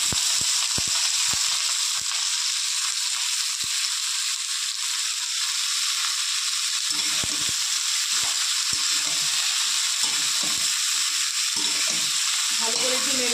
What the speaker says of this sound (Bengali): ভালো করে একটু নেড়ে চেড়ে একটু হালকা ভেজে নেবো।